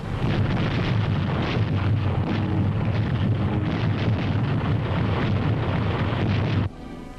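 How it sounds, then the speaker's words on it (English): Wartime aerial bombing of an enemy-held junction on the Rangoon-Mandalay Railroad in Burma, 1945: a continuous heavy roar of bomb blasts and rumbling detonations fills the clip at full loudness before dropping off abruptly near the end. "bombers saturate an enemy-held junction of the Rangoon-Mandalay Railroad in Burma"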